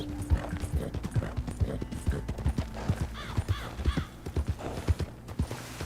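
Horse hooves walk in Red Dead Redemption 2, a steady clip-clop of evenly spaced hoofbeats, fairly close, with a brief snort or whinny partway through.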